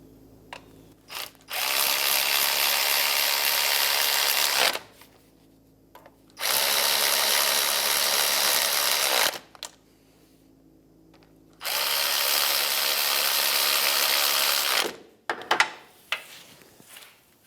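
Transmission mount bolts on a 2007-2013 Acura MDX tightened with a power tool: three long, loud, steady whirring bursts separated by quiet pauses, ending with a few short clicks and knocks, close up.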